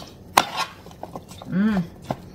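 A spoon scraping and clinking in a pan of frying beef, shrimp and onions, with a few sharp metallic taps and a longer scrape while stirring. The sounds are close and fairly loud.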